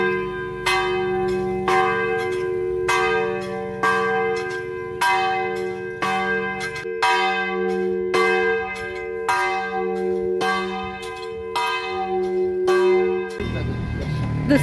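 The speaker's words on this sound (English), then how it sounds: "This is the man who rings the bells." Church bells ring at an old church in Quartier Militaire, Mauritius, struck in a steady, evenly spaced series of loud, close strokes with ringing overtones that carry on for several seconds.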